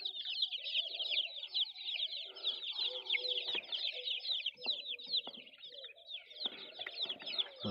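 Chicks cheep continuously in a farm coop, rapid high-pitched peeping close by, with adult chickens clucking and murmuring underneath.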